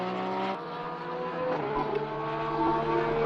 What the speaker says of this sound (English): We ride on board with him now, as I mentioned earlier, the solitary Porsche in the field.